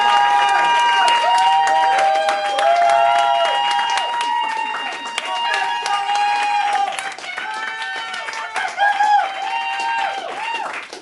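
An audience at an improv festival evening claps warmly for the guests, a sustained wash of dense applause over several seconds with overlapping voices and a tonal melody running beneath it.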